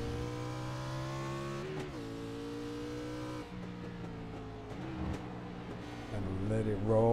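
A race car on the Charlotte roval in a Grand Nationals all-star event holds a loud, steady engine drone, with the pitch dropping sharply at each upshift, including the shift into third, then climbing again close and continuous.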